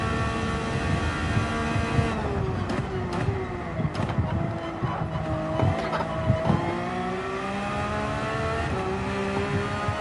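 Race car engine in Gran Turismo 7 revving continuously with gear shifts, braking and cornering, with faint tire squeal, loud and steady throughout.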